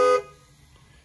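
A Jeep, Dodge or Chrysler car horn, set off by the key fob's panic button, blares in one short, loud honk that cuts off quickly and leaves near silence.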